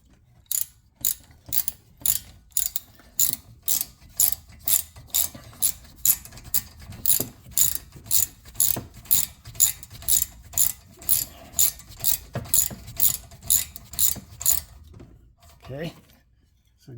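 A hand ratchet tightening brake caliper screws on a 2012 Ford Focus during a front brake job: a close, even run of about thirty sharp clicking strokes, with a faint voice, ending in a pause before a few last clicks.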